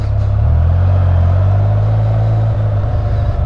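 Deep, steady exhaust rumble from a 2018 BRP Can-Am Spyder RT three-wheeler fitted with high OEM mufflers, loud and close, holding an even drone with a small dip in pitch near the end and no voices.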